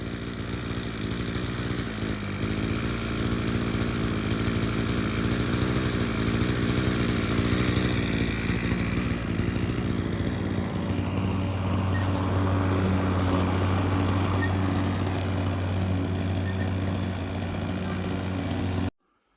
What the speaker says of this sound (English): she'll do a final go round again with the lawnmower